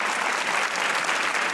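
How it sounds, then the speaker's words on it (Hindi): Studio audience applauding a guest on a Pakistani TV comedy talk show, dense steady clapping throughout, close and sustained with no voices over it. "तालियां होनी चाहिए याया भाई के लिए"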